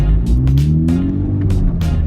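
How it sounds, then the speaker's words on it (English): Honda Civic Type R with a Hondata tune pulling hard in second gear, its engine a loud, steady in-cabin drone with rising harmonics, broken by brief bursts of noise. "Let's go ahead and do a second gear pull."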